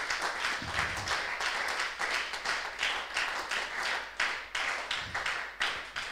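A church congregation claps together in rhythmic bursts, a dense, lively wash of hands beating steadily at a close distance, with no talk over it.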